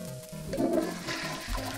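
A cartoonish toilet flush from the cooking game Cook, Serve, Delicious!, a short, fairly quiet gurgling rush of water with a musical background underneath.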